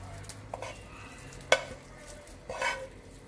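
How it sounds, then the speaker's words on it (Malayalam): A carrot mixture is stirred into beaten eggs in a bowl, with a few soft scraping and swishing strokes, faint and close, no voices. "നമ്മുടെ ക്യാരറ്റിൻ്റെ ഈ കൂട്ട് നമുക്ക് ഈ മുട്ടയിലിട്ടിട്ട് ഒന്ന് മിക്സ് ചെയ്തെടുക്കാം"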